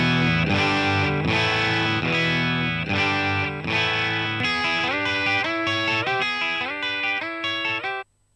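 An electric guitar loop runs through a Morgan Dual 20 amp switched to 12AX7 mode: driven, distorted strummed chords in an even pulse, then ringing single-note lines, cutting off abruptly near the end.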